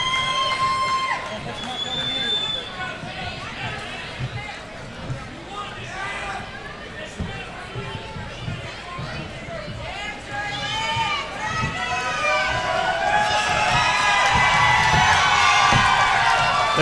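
Crowd at an MMA event cheering and shouting loudly after a pro 185-pound bout, the noise swelling steadily toward the end, with an announcer talking over it.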